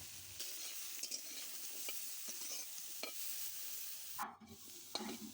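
Cauliflower pieces fry in a hot pan while being stirred, a soft sizzle broken by repeated spatula scrapes and clinks, close and fairly quiet with no talking.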